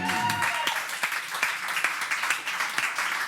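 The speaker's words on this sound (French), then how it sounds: "On l'applaudit, la gang." An audience at a Quebec evening show applauds, a voice trailing off at the start before a steady crowd of hands claps evenly, with individual sharp claps cutting through the sustained patter.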